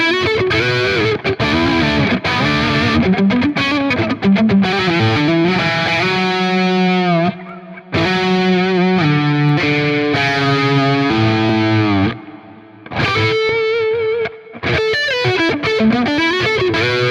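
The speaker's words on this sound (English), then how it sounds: "Then when you turn on some delay, some reverb, sounds really nice up here too." Heavily distorted metal electric guitar through the Neural DSP Archetype Gojira plugin with delay and reverb, loud chugging riffs and sustained high notes with echo tails and brief pauses, no voice.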